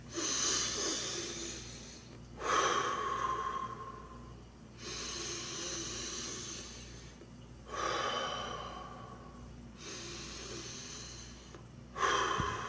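Slow deep breathing, alternating long audible inhales and exhales in a regular rhythm of about five breaths, close and fairly soft with no speech.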